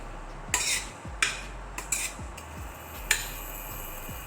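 Dry fruits fry in a cooker as a metal spoon scrapes and clinks against the pot: about half a dozen sharp knocks at irregular intervals over a soft background, with no voices.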